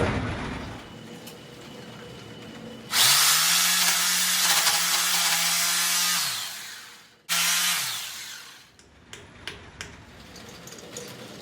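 A power drill whines loudly for a few seconds, pausing, then bores into a wall again briefly before stopping, followed by a few faint knocks.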